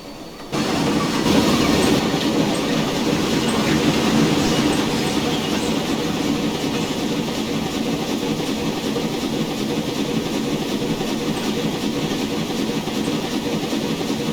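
LMS 2F 0-6-0T steam locomotive in Train Simulator Classic, a continuous rumbling rolling noise with rail clatter that starts abruptly; individual chuffs are very quiet and hard to pick out.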